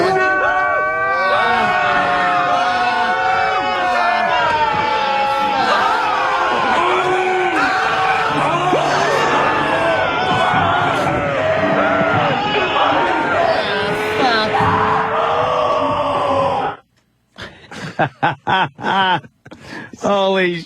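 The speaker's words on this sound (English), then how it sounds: "That's like every scream ever." Recording of many people screaming and shrieking together, a loud dense wall of overlapping voices that keeps going, then cuts off abruptly before scattered live voices take over.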